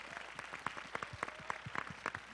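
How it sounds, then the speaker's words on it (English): Scattered audience applause at a high school media career day session, a thin crowd of individual claps with uneven rhythm, moderately close and fairly soft, no voices over it. "Let's have one more round of applause."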